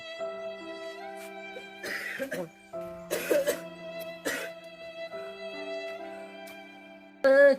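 Several harsh coughs in bursts, close and loud, over a steady background tone, with a final hard cough at the end.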